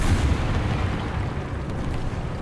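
Video game artillery shells land in a rolling, low booming barrage, dense and loud throughout the short stretch with no clear gaps between impacts.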